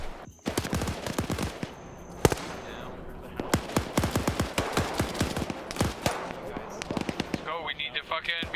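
Gunfire in Arma 3, a mix of sharp single shots and short bursts at irregular intervals, some close and loud, others more distant, with voices speaking between the shots.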